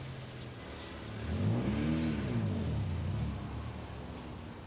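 A car accelerates away with its engine revving, rising in level and then fading as it departs, heard alone with no talk.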